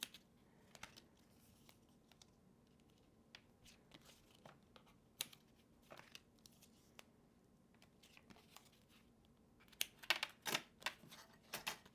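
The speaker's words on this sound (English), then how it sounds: "And grabbing my small little scissors here." Small scissors snip paper for card making, quiet sparse clicks and cuts close by, turning into a quicker cluster of snips and crinkles toward the end.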